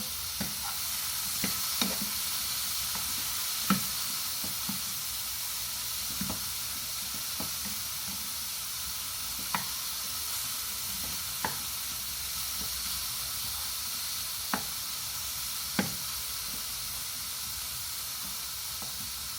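Shrimp frying in a hot pan for honey lime shrimp with asparagus, giving a steady close sizzle and hiss with scattered sharp clacks and pops as the pieces are stirred and turned, with no talking.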